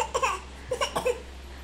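A handful of short coughs come in quick succession, close by, quiet and soft, with no talking.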